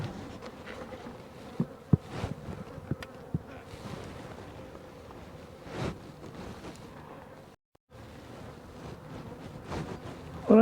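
Honeybees hum and buzz steadily around a hive, a dense insect drone with a few louder close passes and a brief dropout partway through.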